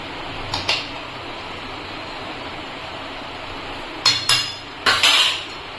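A ladle briefly stirs chana dal malai curry in a pot, giving a few separate metallic clinks and scrapes over a quiet, steady background hiss.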